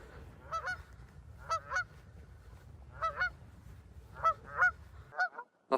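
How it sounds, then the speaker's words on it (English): Geese honking out in the Scottish wilderness at night, a series of paired honks repeating every second or so, moderately close over a low rumbling background. "There are those noisy geese again."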